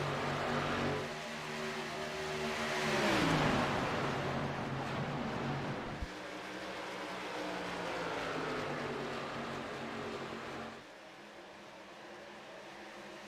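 Stock cars in an ARCA Series race at Kentucky Speedway roar past, a loud sustained engine drone that swells and sweeps in pitch as cars pass, then drops to a quieter steady hum near the end.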